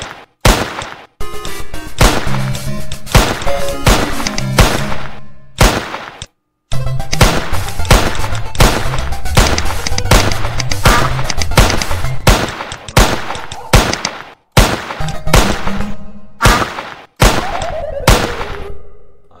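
Rapid bursts of gunshot effects from a Scratch Duck Hunt video game fire in quick runs, loud and close, separated by short silent gaps, with no talk over them.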